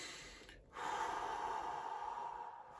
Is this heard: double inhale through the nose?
yes